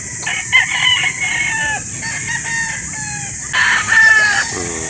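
A rooster, a kanino white crossed with super sweater, crows repeatedly and close at a chicken sale in Calauan, Laguna, long strained calls with short clucks between, over steady background noise and no talking.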